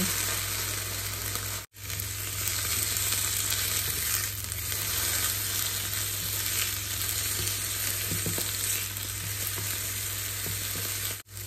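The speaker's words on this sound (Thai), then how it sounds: "ตัวเห็ดเนี่ย นี่จะใช้เวลาผัดนานนิดนึงนะคะ" Mushrooms stir-frying in a pan give a continuous, even sizzle with occasional soft stirring scrapes, close and moderately loud throughout.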